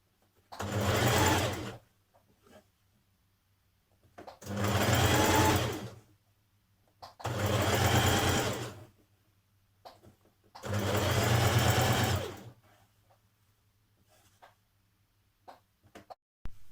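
A sewing machine stitches down a neck binding on a New Look 6086 top in four separate bursts of rapid, buzzing stitching, each about one to two seconds long, with quiet pauses and small handling clicks between them.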